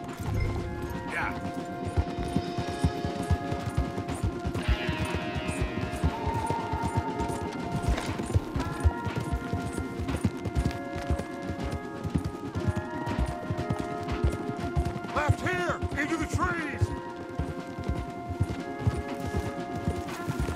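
Hooves clip-clop rapidly as horses gallop in Red Dead Redemption 2, a steady drumming rhythm beneath people talking and occasional sharp bursts.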